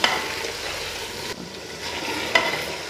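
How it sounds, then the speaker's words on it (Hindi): Meat for chicken pulao sizzles and fries in a pot, a steady close crackling hiss with a couple of louder stirring scrapes, no talking. "अब हम गोश्त को भूनेंगे उस वक्त तक जब तक ये लाल हो ना जाए।"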